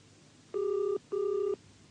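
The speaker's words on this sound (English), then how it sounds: "answer your flaming phone" A telephone rings twice in a classic double-burst pattern, each ring a steady electronic warble about half a second long with a short pause between, clear and alone.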